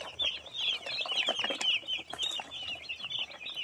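Broiler chicks in a farm shed keep up a dense, busy chorus of high peeping, with soft clucks and brief wing flutters mixed in.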